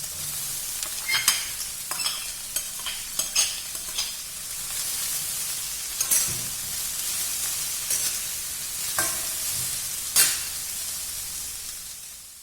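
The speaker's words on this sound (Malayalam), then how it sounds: "അപ്പോൾ നമ്മൾ അരിഞ്ഞു വെച്ചിരിക്കുന്ന ഉള്ളി ഇടുക" About four large onions, half-sliced, sauté in hot oil for a potato curry, a steady soft sizzle broken by repeated scraping stirs of a spoon against the pan, close and clear without talk.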